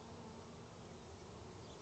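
Honeybees from a Varroa mite–infested New Zealand colony buzz in a soft, continuous drone, many wings blending into one low, faint hum with no voices.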